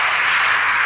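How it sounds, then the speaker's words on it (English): A young adults church gathering applauds a speaker, a brief burst of steady, dense clapping close by. "I think we could give him a round of applause"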